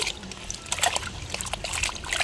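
Fresh coriander bunches are swished and washed in water, a close, brief stretch of trickling and small splashes.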